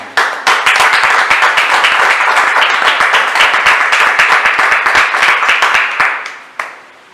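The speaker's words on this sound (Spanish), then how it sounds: "Dale un aplauso al Señor." A church congregation applauding, dense sustained clapping from many hands at close range that fades out near the end.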